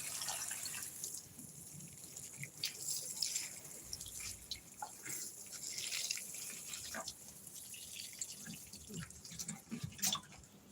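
Water is poured onto plants in a garden, heard as a continuous trickling and splashing with scattered drips throughout, moderately close.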